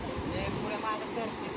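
Sea waves wash onto a beach in a continuous broad roar mixed with wind noise, close and steady.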